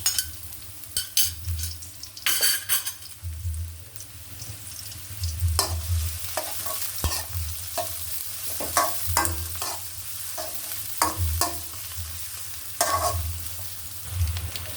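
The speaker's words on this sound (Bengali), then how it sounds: "পেঁয়াজ রসুন কাঁচামরিচ ভাজা হয়ে গেছে" Chopped onion, crushed garlic and green chilies fry in a pan under a constant sizzle, while a spatula stirs and scrapes in repeated bursts of knocks and scuffs throughout.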